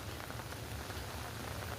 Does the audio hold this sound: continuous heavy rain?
yes